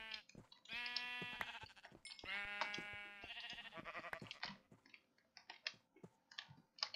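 Sheep in the Minecraft video game bleat repeatedly, several clear wavering bleats at the start followed by rapid keyboard clicking and tapping.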